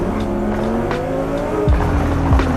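A 1250-horsepower Lamborghini Huracan Technica in Forza Horizon 5 roars from the cabin, holding a steady engine drone with tires squealing, then two sharp downshift or gear-change drops near the end, loud and continuous with no voices.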